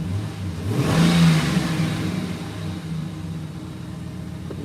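Car engine catching right after the key is turned, a loud rising rev that settles into a steady mid-pitched idle hum, close and alone.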